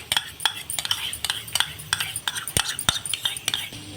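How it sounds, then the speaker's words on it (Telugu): Beaten yogurt being stirred into a mutton paya curry, a spoon clinking and scraping against the pot in a steady run of short, close strokes with no talk. "పెరుగు వేసి బాగా కలుపుకోవాలి"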